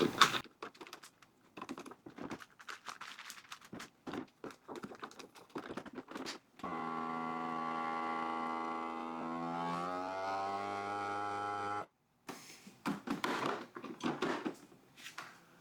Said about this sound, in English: Now I'm going to vacuum seal it.